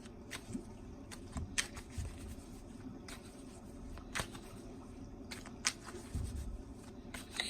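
Soft, close riffling and flicking of playing cards in irregular bursts over a quiet, steady background hiss.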